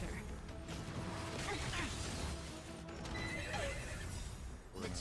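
A horse neighs and hooves clip-clop in the video game Honkai: Star Rail during a Memory of Chaos battle, amid clanking mechanical effects and continuous game sounds.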